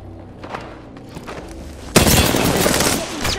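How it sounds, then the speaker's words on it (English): Gunfire in the battle royale game Apex Legends: a dense, loud burst of shots erupts partway through and keeps going, following a stretch of quieter game sounds and faint voice chatter. "Shot dead. Taking fire."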